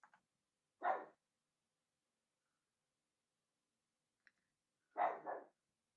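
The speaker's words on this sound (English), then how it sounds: "My dog has been barking this whole time." Dog barking in two short bursts a few seconds apart, fairly close and alone against near silence.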